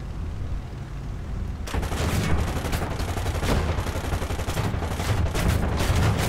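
Gunfire in the War Thunder combat game: a dense, sustained burst of rapid automatic shots that starts abruptly and continues loudly without pause, over a constant engine-like drone.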